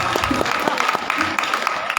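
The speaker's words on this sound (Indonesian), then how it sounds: "Tepuk tangan untuk Pak Sidik" An audience at a Maulid Nabi gathering in an Indonesian pesantren applauds Pak Sidik, with dense, brisk clapping from a crowd nearby and voices mixed in.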